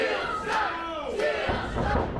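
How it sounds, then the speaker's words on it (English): Wrestling crowd at a live pro wrestling event cheering and roaring continuously, a loud sustained wall of voices with rising surges of yelling throughout. "The crowd is going crazy."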